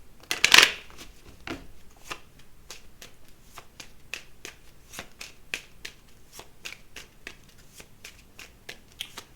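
A deck of tarot cards is shuffled close by, with a loud riffle at the start and then a long run of quick, crisp card snaps and flicks at an uneven rhythm.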